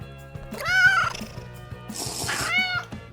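A cat gives two drawn-out, wavering meows, loud and close, with a soft rhythmic tapping underneath and no talk.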